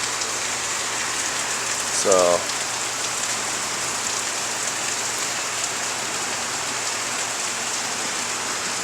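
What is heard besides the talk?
pounding monsoon rain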